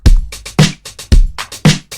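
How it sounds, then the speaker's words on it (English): Full indie pop rock drum beat from FL Studio: a light acoustic kick and lo-fi snare alternate under busy hi-hat ticks and a textured background drum loop, loud, steady and without voices. "And all together, the drum loop sounds like this."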